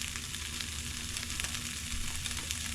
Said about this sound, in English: we're gonna start off with some ham, just like so. We're gonna let her sizzle.